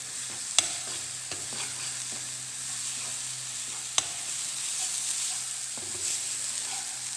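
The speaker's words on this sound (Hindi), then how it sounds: "मिक्स करेंगे।" Bitter gourd curry with garam masala is stirred in a pan, with a continuous gentle sizzle under scraping strokes and two sharp clinks of a spoon against the pan.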